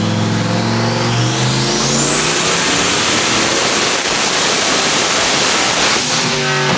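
A Ford 351W stroker small-block engine making about 1,000 horsepower on a Dyno Jet dyno at a Ford event in Tennessee, revving loud and close in a continuous rising pull that climbs in pitch, holds high, then falls back off near the end.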